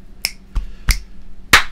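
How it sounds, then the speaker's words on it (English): A crisp clap sample sounds four times across a short keyboard rhythm loop, dry, evenly spaced hits with the last one brightest and loudest, no voice. "So we have the clapping now on the fourth beat instead of the click."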